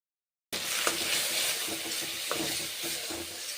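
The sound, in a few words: Maggi noodles frying in ghee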